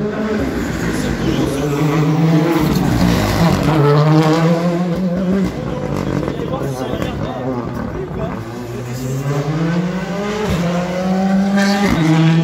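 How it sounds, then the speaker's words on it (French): A Skoda Fabia rally car runs a special stage at the Rallye d'Antibes shakedown. The engine drones and rises through the gears, and a commentator talks continuously over it. "avec la Skoda Fabia numéro 15. Le rallye d'Antibes. Voilà, Frédéric Cassani qui en termine maintenant."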